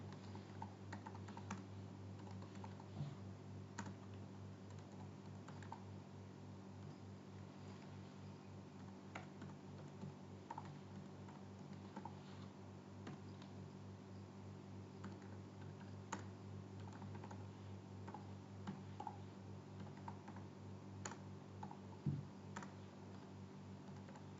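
Soft, steady typing on a computer keyboard, entering commands to set up a database user, heard close and quiet over a constant low hum, with a few louder key taps.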